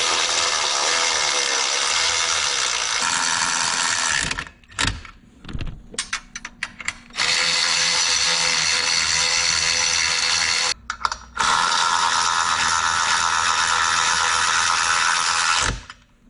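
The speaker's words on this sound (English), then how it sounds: "you're going to just tighten them up with a ratchet" A ratchet clicks rapidly and continuously while tightening the battery bolts on a DRR electric ATV, in long runs broken by short pauses and brief handling noises.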